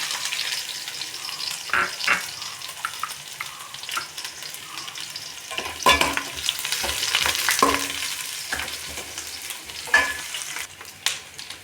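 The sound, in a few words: onion, garlic and curry leaves frying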